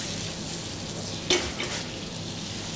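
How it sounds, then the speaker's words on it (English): Fresh summer vegetables sauté in oil and butter in a pan for a pollock and saffron dish, giving a steady close sizzle with a brief clink of a utensil partway through. "Just drop them in, and we're just going to basically saute them off."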